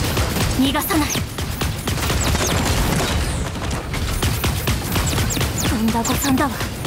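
Rapid gunfire from the mecha battle game Super Mecha Champions, dense bursts of shots and impacts crackling almost without pause, loud and continuous throughout.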